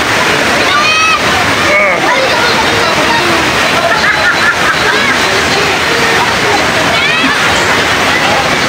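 River water splashes and sloshes continuously at Antipolo river in Calinan, Davao City, a loud steady wash with bursts of spray, while people's voices chatter faintly in the background.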